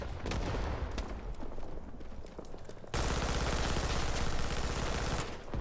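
Gunfire in the video game Rising Storm 2 Vietnam, loud dense bursts of shots running continuously and intensifying midway into sustained rapid firing.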